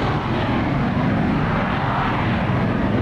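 Jet aircraft roar as they launch from carrier catapults in a naval battle video game, a loud, continuous engine rumble and whoosh filling the scene without any talking.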